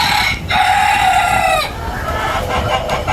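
Desi chickens on a vertical poultry farm, a rooster crowing loudly and close with a long drawn call while hens cluck around it, followed by more scattered clucks.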